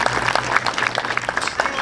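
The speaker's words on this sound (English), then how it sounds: "So give yourselves a big round of applause." Youth appreciation day audience applauding themselves, a steady wash of clapping with scattered sharper hand claps, fairly close and continuous, with a faint murmur of voices underneath.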